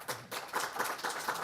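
Audience applause for political candidates at a chamber political forum, a short burst of clapping from a room of people, moderately loud and steady for about a second and a half.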